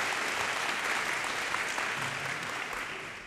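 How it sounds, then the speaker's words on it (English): Steady audience applause at a California state political event with a senator, Sacramento's mayor and Rev. Jesse Jackson, a dense continuous wash of many hands clapping that fades slightly toward the end. "Let's give him another round of applause because we have a budget in the state of California."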